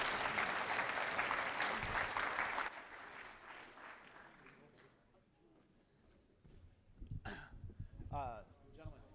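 Audience applause for a panel of speakers at a higher-education panel event, loud and sustained for about three seconds before fading into quieter room noise and a few voices.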